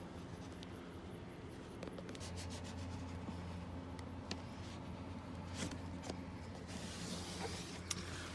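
A bitless screwdriver rubbed along suede material to press it into the dash trim of a Volvo S60 R, producing a quiet, low scraping and rubbing with a few faint clicks, close but soft.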